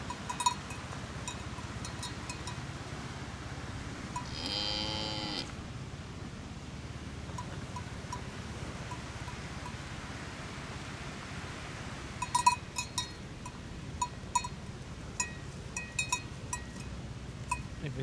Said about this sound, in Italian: Vedete le mucche